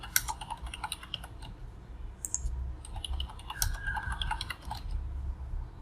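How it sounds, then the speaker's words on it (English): Fingers tap out a password on a computer keyboard, a steady run of light, close clicking keystrokes over quiet room background. "And then enter some password,"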